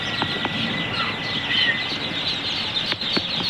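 Day-old and week-old Pekin and Muscovy ducklings in a brooder make scattered high peeps and short chirps against a steady background hum, some calls sharp and close.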